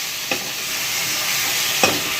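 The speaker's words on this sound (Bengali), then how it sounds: "এরপরে কিন্তু বন্ধুরা ভালো করে নাড়িয়ে নেওয়া হচ্ছে" Spices such as cumin and garam masala powder sizzle steadily in a hot frying pan, with two brief scraping strokes of a spoon stirring them, close and fairly soft, no talk.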